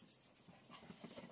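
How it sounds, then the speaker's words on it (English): Dogs pant softly and rapidly at close range in a quiet room, a steady breathy rhythm with no talking. "Kenzie, you are such a good watchdog"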